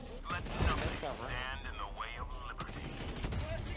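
Automatic turret gunfire in the video game Helldivers 2, a loud burst of rapid shots with crashing impacts and whooshing game effects, continuing under steady background noise.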